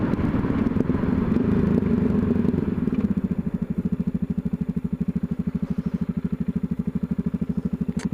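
A Yamaha XT660Z Tenere single-cylinder engine runs close by during a test ride, first with a steady revving drone, then dropping to a loud, even, thumping idle-like pulse.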